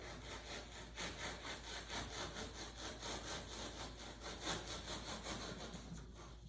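A tool trims material off a small Sea Snark sailboat with a steady, rhythmic back-and-forth rasping like sawing, close and continuous, with no talking.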